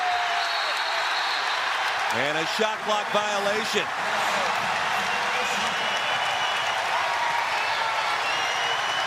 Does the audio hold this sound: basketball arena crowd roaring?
yes